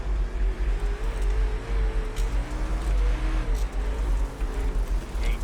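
Super Late Model race car engines from a World of Outlaws dirt-track race at Port Royal in iRacing drone loudly and steadily throughout, a dense continuous roar with shifting pitch as several cars run close together.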